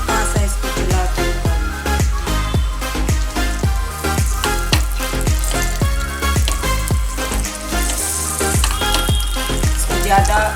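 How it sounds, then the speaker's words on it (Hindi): Onion frying in a little oil in a pan, a loud, steady sizzle with repeated stirring scrapes in a regular rhythm, close up and without talk. "अब ये पैन में थोड़ा सा तेल डालेंगे और प्याज एकदम हल्का सा इसको चला के"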